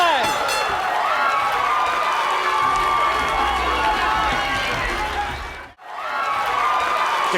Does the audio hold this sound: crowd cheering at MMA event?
yes